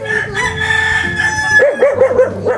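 A farm rooster crowing loudly and close, one long drawn-out call followed by shorter clucking and crowing notes, with no talk.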